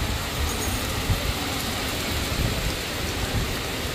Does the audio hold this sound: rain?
yes